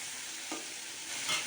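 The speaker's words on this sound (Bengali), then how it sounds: "ফুল নামিয়ে ভেন্ডি ভাজতে কিন্তু বসিয়ে দিয়েছিলাম" Okra sizzles steadily in a hot pan, a constant close crackle with a couple of brief stirring scrapes.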